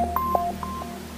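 Telephone dialing tones, a quick series of short, clear electronic beeps at an uneven rhythm, heard alone and close with a faint steady hum beneath.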